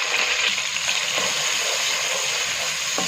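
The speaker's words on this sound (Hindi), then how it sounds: "प्याज को हम गोल्डन फ्राई कर लेंगे" Onions sizzle in hot oil for beef yakhni pulao, a steady close hiss and crackle with no talk over it.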